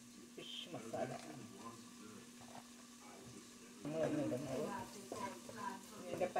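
Kashmiri chilli powder and fish masala sautéing in a pan for a coconut milk fish curry, giving a soft, steady sizzle with occasional stirring scrapes, growing louder near the end, with a voice talking over it.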